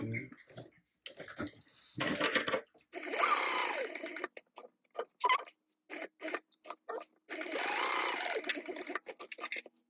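Sewing machine stitching a tote bag, with several bursts of fast rattling stitching, some short and some lasting a second or two, separated by pauses with small clicks and handling noises, close and clear.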